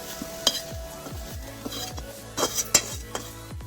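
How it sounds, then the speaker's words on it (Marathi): Cumin and salt rattle and scrape in a dry pan as a utensil stirs them, with soft sizzling and irregular metallic clinks up close. "भाजतानाच त्यामध्ये टाकायचं आहे जिरे, मीठ आणि भाजून घ्यायचं व्यवस्थित"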